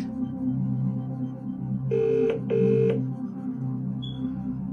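Two short electronic dialing tone bursts sound over steady background game music in the Who Wants to Be a Millionaire Junior Edition PlayStation game, followed by a brief faint high beep.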